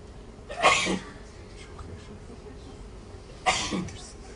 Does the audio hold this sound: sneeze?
yes